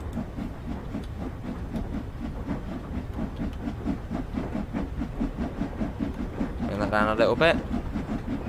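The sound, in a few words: steam train departing Crewe in video game Train Sim World 2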